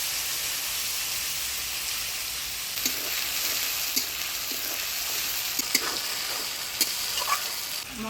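Ground spice pastes of ginger, cumin, coriander, onion, garlic and chili with turmeric and salt sizzle and fry steadily in a pan in a village kitchen, with occasional scraping stirs breaking through the continuous hiss.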